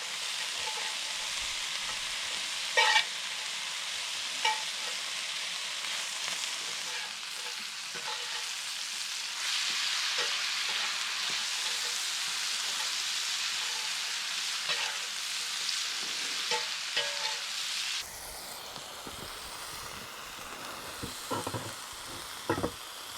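Chicken stir fry sizzling in a pan over a campfire in the Australian bush, a steady loud hiss and crackle with occasional clinks and stirring scrapes, close up with no talking.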